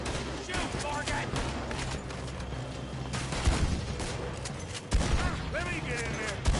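Rapid volleys of gunfire from a Red Dead Redemption 2 shootout crack near and loud across the whole stretch, with heavier bursts toward the end and voices shouting over the shooting.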